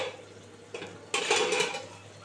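A metal lid is lifted off a pan of spicy pointed gourd cooking with ground shrimp, giving a soft clink followed by a brighter clatter and scrape of metal. The sounds are close and brief, with no talk.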